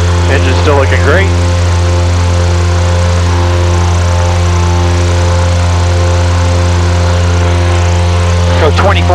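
Constant loud aircraft piston engine droning at climb power after takeoff, a steady harmonic roar with short voice bursts at the start and end.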